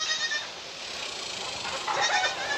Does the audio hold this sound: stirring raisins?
no